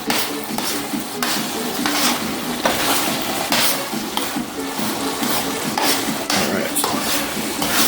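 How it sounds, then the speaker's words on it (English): Beef sizzles and spatters in a pot while being stirred for a Jamaican curry lasagna, with steady frying crackle and repeated scraping strokes close by. "Meat is cooking."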